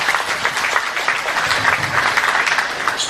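A crowd applauds steadily at a Buddhist temple's 100th anniversary celebration, dense continuous clapping filling the room without a break for several seconds.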